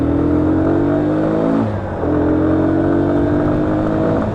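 A Lexmoto Venom 125 motorcycle accelerates hard through the gears in traffic, its loud, close engine note climbing steadily, dropping briefly at a gear change, then rising again.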